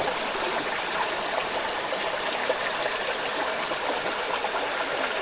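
Steady rushing flow of the Mayton River, a broad continuous wash of water heard up close and alone, with no voices over it.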